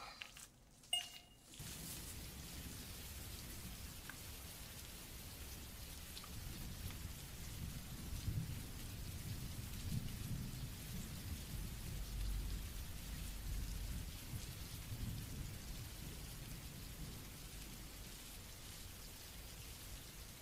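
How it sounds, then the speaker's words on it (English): Steady rain patters on a surface, with a low rumble of thunder rolling underneath, soft and continuous without talking. "the pitter-patter of rain"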